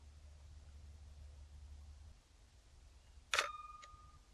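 A single sharp camera shutter click sounds close and clear during film test shots, followed by a brief faint mechanical tick. Low background hiss surrounds it and drops slightly before the shot.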